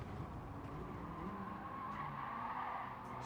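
Honda Civic Type R, a 2022 model, lapping Circuit Gilles Villeneuve with its tires squealing and slipping over steady, loud engine and road noise, a continuous close-up smear of sound with no talk.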